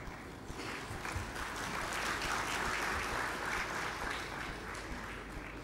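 Delegates at a UNESCO intergovernmental committee session applaud together, a sustained even wash of clapping that swells slightly in the middle, heard from a distance in a large hall.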